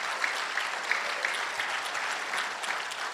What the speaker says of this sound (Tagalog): Mahina pumalakpak ang mga tao rito.